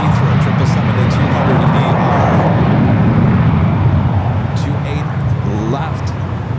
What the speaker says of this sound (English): United Flight 901 heading to London Heathrow